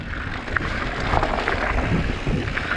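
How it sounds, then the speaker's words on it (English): Strong wind on a mountainside buffets the microphone in a continuous, rumbling roar with gusty surges and no voices. "It's windy on this side of the mountain."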